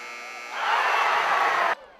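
A loud, sustained electronic horn marks the final buzzer at a college basketball game between Ball State and Southern Mississippi, swelling in for about a second before cutting off abruptly, with crowd noise beneath.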